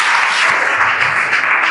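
A church congregation at a New Year service claps loudly and steadily together, a dense, continuous wash of hand claps filling the space with no voices over it.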